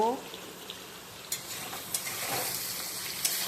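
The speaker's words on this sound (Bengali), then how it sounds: "দিয়ে ভালো করে তেলে আমি ভাজবো আলু পটলটাকে" Potatoes and pointed gourd frying in oil in a pan, a continuous sizzle with intermittent clicks and scrapes of a stirring utensil, fairly close, with a hint of voice at the start.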